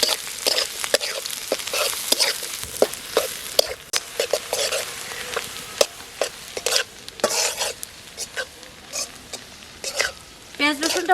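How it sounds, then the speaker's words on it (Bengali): Onion and garlic fry in oil in a wok while being stirred, bursts of sizzling hiss broken by repeated scraping and clinking of a utensil against the pan, fairly close. "পেঁয়াজ রসুন ভালো করে ভেজে নিচ্ছি।"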